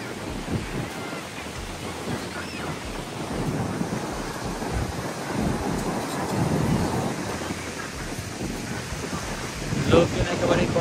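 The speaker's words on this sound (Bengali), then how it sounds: "ঢেউয়ের কি স্রোত!" Stormy sea surf at Cox's Bazar beach, waves and strong current churning with gusty wind buffeting the microphone, a dense continuous roar that swells louder toward the end, with no clear voices.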